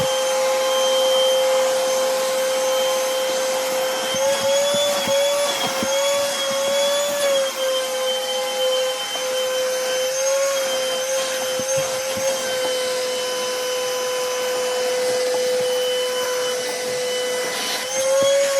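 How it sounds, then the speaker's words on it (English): A shop vac cleans up debris around a camper van's baggage door work area, its loud, continuous motor whine holding steady with slight pitch wobbles as the nozzle moves and picks up bits of debris. "I'm just going to grab the shop vac, give our work area a good vac here"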